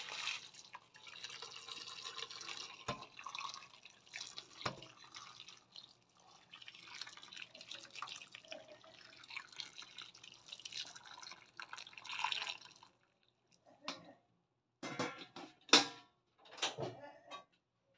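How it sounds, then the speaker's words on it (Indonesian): Hot water poured over wood ear mushrooms to soak them, a close, wet splashing pour running steadily for about twelve seconds, then breaking into separate drips and splashes. "kita akan rendam dengan air ya air panas ya atau air hangat juga bisa ya rendam dulu ya dengan air ini air panas ya saya pakainya"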